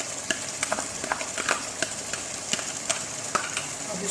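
Chicken handi simmering in a pot as almonds go in, a soft steady sizzle with scattered light clicks and taps of stirring, quiet and close with no talking.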